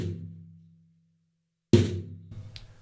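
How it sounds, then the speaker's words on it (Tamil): High tom on a drum kit struck twice, close and alone: a resonant hit decaying into silence, then a second sharp hit followed by a short rattle. "ஐட்டாம் ஒரு சவுண்ட் எப்படி வரும்னா"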